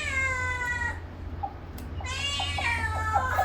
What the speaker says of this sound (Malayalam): പൂച്ച റെഡി ആയിട്ട് നിൽക്കുന്നുണ്ട് മീൻ തിന്നാൻ